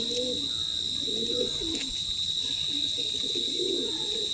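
Madras racing pigeons coo softly in the background, low rolling calls repeating several times beneath a constant high electrical hum and ambient noise.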